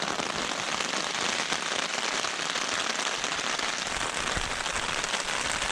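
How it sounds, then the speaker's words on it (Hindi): Steady rain patters densely on a taut tent surface close by, a constant hiss of drops with no breaks and no voices, on a mountain trek in Kashmir. "आवाज़ आ रही होगी आपको बारिश की"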